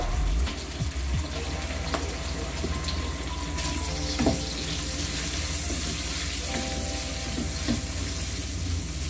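Chorizo with red and yellow bell peppers frying in a pan, a loud continuous sizzle close up, with stirring scrapes and clinks of a utensil throughout.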